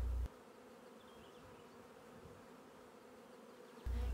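Honey bees buzz in a dense, steady drone, close and continuous, with no voices or other sounds.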